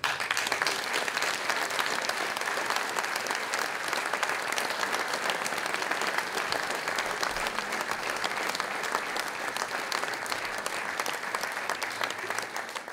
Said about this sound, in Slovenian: Prosim, en velik aplavz